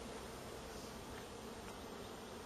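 Dense, steady buzzing from many honeybees at a hive entrance as foragers come in, a close swarm-like drone with no voices.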